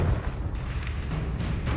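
Bombarda and Confringo explosion spells in the video game Hogwarts Legacy, a continuous low rumble of blasts with a few brief bursts, heavy and sustained throughout.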